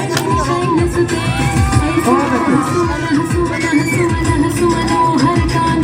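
Crowd at a school annual function in Etawah cheering and shouting, with children's voices and whoops over loud, continuous music, a lively, boisterous din close by.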